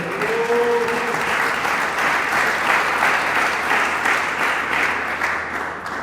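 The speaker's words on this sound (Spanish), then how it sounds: "Dele palmas al Señor." Church congregation applauding together during a sermon, dense sustained clapping filling the room for the whole stretch, loud and continuous with no voices over it.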